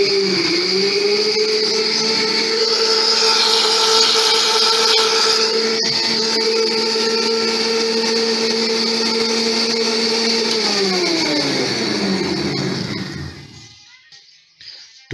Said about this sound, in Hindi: फिर ब्लेंड करेंगे।